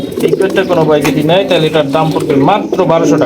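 Bombay pigeons at a pigeon market coo steadily and close by, with layered overlapping calls running throughout and people talking over them.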